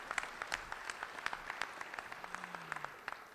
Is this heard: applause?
yes